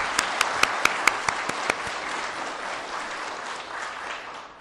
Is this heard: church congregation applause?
yes